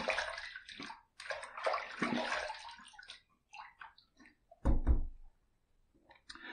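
Tap water runs and splashes in bursts while a razor is rinsed mid-shave with Otra shave soap, loud at first, then broken into short splashes and one heavier gush near the end.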